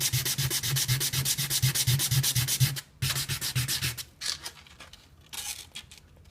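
Plastic Tamiya Mini 4WD Super 2 chassis being trimmed, a rapid run of close scraping, rasping strokes in steady rhythm, then a brief pause and a few sparser scrapes.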